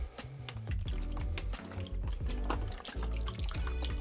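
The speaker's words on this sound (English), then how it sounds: "Pour the stop bath on." Stop bath poured into a film developing tray, a steady splashing liquid pour with some dripping, close and fairly loud, no voices.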